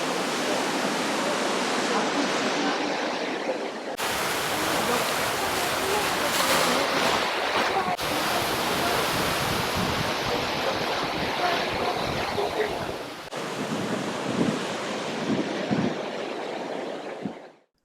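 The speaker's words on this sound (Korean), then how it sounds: "바다 쪽 가까운 곳에 있어 파도 소리가 시원하게 들리는" Ocean waves break near a seaside pavilion on rocks at the end of a stone bridge in Sokcho, Korea: a loud, continuous wash of surf and wind that runs steadily throughout, with a brief dip before the swell rises again.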